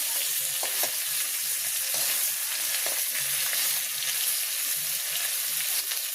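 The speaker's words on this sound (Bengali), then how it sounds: "তো মাছগুলো সুন্দর করে ভাজি করে নিলাম" Hybrid koi fish fry crisply in hot oil in a village kitchen, a steady close sizzle with occasional soft stirring scrapes and no voices.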